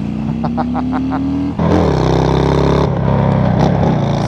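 A Harley-Davidson Fat Bob motorcycle rides by close up, its engine droning at a steady pitch, then a louder, fuller roar as the throttle opens and the engine pulls hard under wind noise.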